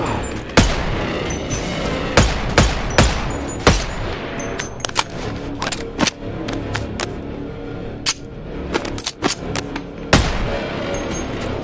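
Gunfire in the VR shooter Boneworks: a string of sharp, loud single shots spaced irregularly, some in quick pairs, over a low ambient game background.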